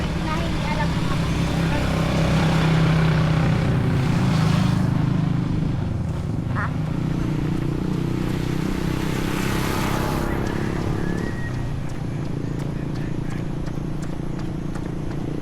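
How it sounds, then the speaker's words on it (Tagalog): A motorcycle on the road passes by during an outdoor walk, its steady engine drone mixed with broadband traffic noise, fairly loud and continuous, while people talk nearby. "Oh, motor."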